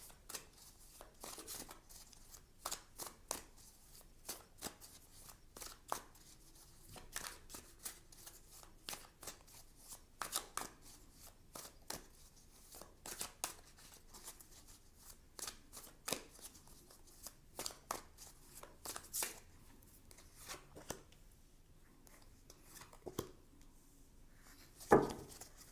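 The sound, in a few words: tarot cards being shuffled and drawn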